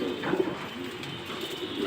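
Young 2023 racing homing pigeon, a male raised for racing, cooing softly and low in steady indoor background noise, with brief faint coos near the start.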